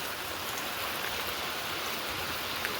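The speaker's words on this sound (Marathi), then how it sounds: "तुम्हाला दाखवतो पाऊस कसा चालू झाला" Steady rain pours down in a dense, even hiss of countless drops hitting surfaces, continuous and fairly loud without pauses or voices.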